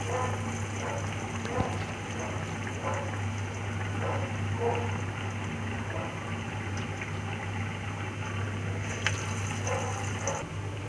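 Masala vada lentil fritters sizzle in hot oil, a steady, dense crackling and bubbling hiss that holds at an even level throughout with faint scattered pops.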